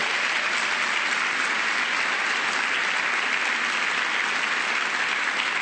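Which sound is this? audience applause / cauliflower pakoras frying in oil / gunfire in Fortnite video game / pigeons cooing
audience applause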